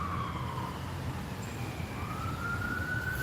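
A wailing emergency siren sweeps up and down in the distance, faint over a low rumble of city traffic, its rising and falling tone drifting through the background.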